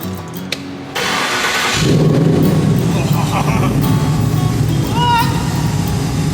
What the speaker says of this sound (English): Hey Ram, come and check out the exhaust